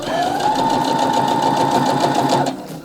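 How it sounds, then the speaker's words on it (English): A Baby Lock Jubilant portable sewing machine stitches down a seam with a close, steady, fast mechanical whirr running for a couple of seconds before slowing and stopping. "I'm going to stitch that down to secure that seam"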